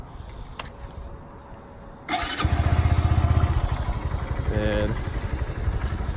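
A Honda Grom motorcycle starts abruptly after a faint click and a brief voice, then idles loudly and close up with a steady, slightly uneven throbbing rumble.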